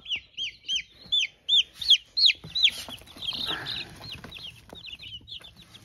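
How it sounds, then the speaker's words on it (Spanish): A chick separated from its siblings peeps loudly and repeatedly in a steady rhythm of sharp, high chirps, then quieter peeps continue amid faint background rustling. "Ya nuestro pollito está llorando, está reclamando a sus hermanitos"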